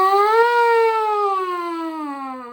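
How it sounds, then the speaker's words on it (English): A beginner's trumpet holds one sustained tone that slides from low up to high and back down, a smooth rising-and-falling warm-up that wails like a siren, loud and close with no talking over it. "It's just a trumpet warming up."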